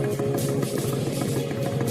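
A Kawasaki motorcycle engine runs at a steady, close idle with a dense low rumble and constant vibration, alone without any voices.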